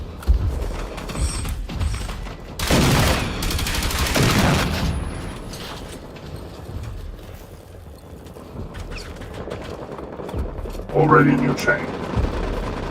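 Repeated gunfire in the shooter game Generation Zero, bursts of shots and mechanical clatter coming in clusters, loud near the start then thinning out, with a person speaking briefly.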